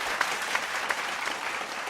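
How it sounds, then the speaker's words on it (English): A small group on a podcast recording claps for a guest, close, brisk applause with a few sharper individual claps standing out, sustained throughout. "Let's clap it up for For Clark"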